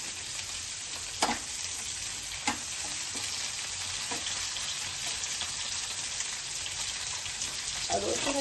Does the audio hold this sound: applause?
no